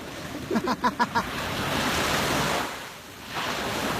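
Ocean waves wash onto a beach on New Year's Eve with a broad, steady roar and wind buffeting the microphone. A few short thumping knocks come near the start, and a fresh surge builds toward the end.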